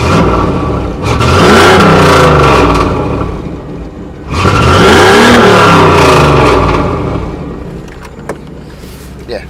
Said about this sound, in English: Let you listen to the muffler.